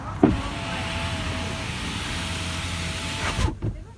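The power window of a new car runs with a steady electric buzz for about three seconds, framed by a thump at the start and a clunk as it stops.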